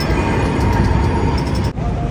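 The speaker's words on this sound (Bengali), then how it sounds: "তাকসিম স্কোয়ারের ট্রেন।" A tram at Taksim Square in Istanbul rumbles steadily and loudly nearby, a continuous rolling drone with no speech over it.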